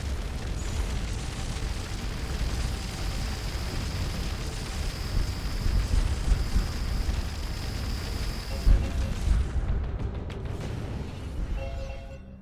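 In the space game Starcom Nexus, laser weapons pound an enemy base, producing a sustained low rumbling roar with a faint steady whine. The din swells with a few bursts, then abruptly drops away into quieter tones at the end.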